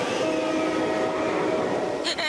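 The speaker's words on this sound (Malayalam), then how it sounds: "20 കൊല്ലത്തെ അനുഭവത്തിൽ ഒരു ട്രെയിനും ഇതുവരെ എന്റെ പുറകെ വന്നിട്ടേ ഇല്ല" A cartoon metro train chases behind on the track with a loud, continuous rumble and sustained droning tones, ending in a brief sharp burst.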